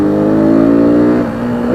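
A KTM Duke 200 motorcycle pulls away hard in third gear, its engine note climbing steadily in a loud, close, continuous rising whine before easing slightly near the end.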